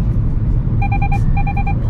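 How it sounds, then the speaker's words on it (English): Perodua Ativa lane departure warning sounding as the car drifts out of its lane: two quick sets of four clean electronic beeps, crisp and evenly spaced, over steady road and cabin rumble. "the car will give you a buzz as well as a slight tug on the steering wheel to push you back into your own lane"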